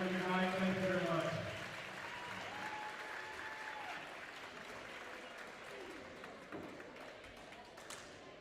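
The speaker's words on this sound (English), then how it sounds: "If we can get one more round of applause for our great boys and our great cheerleaders" Applause from a crowd at a high school boys' basketball scrimmage in a gym, loud at first and then easing into a steady, softer clatter of clapping with crowd murmur and voices underneath.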